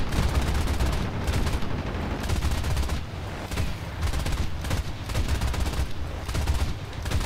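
Aircraft machine guns in the War Thunder combat game fire in repeated rapid bursts, dense rattling volleys separated by brief pauses, loud and close over engine drone.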